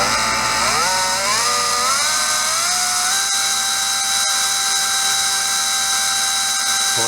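A Surpass Rocket V6 17.5 brushless RC motor spinning up with a loud, steady high-pitched whine that climbs in steps during the first few seconds, then holds a constant pitch, alone with no talk.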